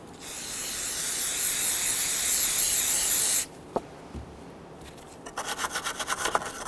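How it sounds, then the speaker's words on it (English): Spray solvent hisses out in one continuous, close burst lasting about three and a half seconds onto a back-up camera bracket on a 2011-2017 Nissan Quest, followed by quiet, a few small taps and some faint rubbing. "We're going to use a bit of spray solvent."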